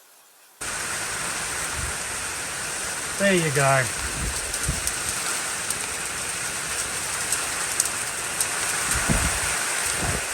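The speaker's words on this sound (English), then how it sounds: "It's hailing again." Hail falls outdoors as a dense, steady patter and hiss that continues throughout, with a short spoken remark and a brief whistle-like voice sound partway through.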